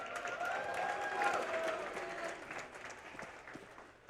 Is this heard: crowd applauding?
yes